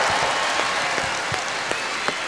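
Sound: applause for Sinterklaas

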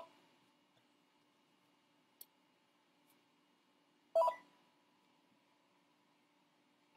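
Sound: telephone beeping with incoming urgent calls

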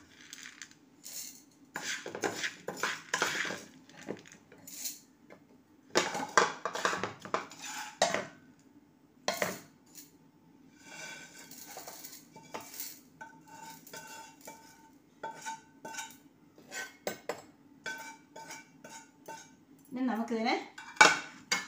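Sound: roasted spices being put into a mixer grinder jar

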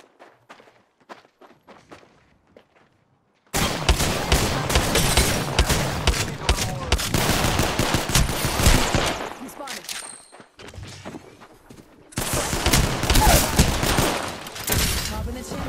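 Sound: gunfire from a video game

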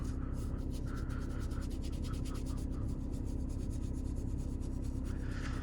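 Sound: brush scrubbing seam of leather steering wheel

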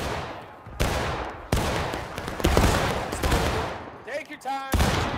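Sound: volley of gunfire in a battle video game

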